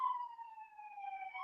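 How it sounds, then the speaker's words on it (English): A police siren wails outside a house in Philadelphia, a single clean, slowly falling tone held steadily and heard alone at moderate distance. "Y'all can hear them sirens loud as day right outside my house"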